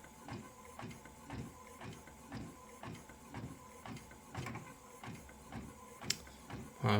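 An HP inkjet printer fitted with HP 363 cartridges runs a test page in black ink, its print head carriage sweeping back and forth in a steady, repeating whir and thump, close by and with no talking.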